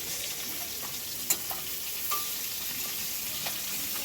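Giant river prawns fry in a pan in a home kitchen, giving a steady, bright hiss of oil with a few small pops and faint utensil taps.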